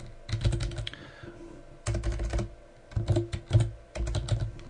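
Keys clatter on a computer keyboard in quick bursts separated by short pauses while column headers go into a spreadsheet. The typing is close and fairly loud, with no talking.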